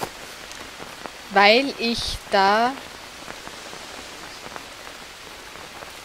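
Steady jungle rain in the survival game Green Hell, a soft continuous patter of drops on foliage that runs underneath a brief stretch of a man's speech.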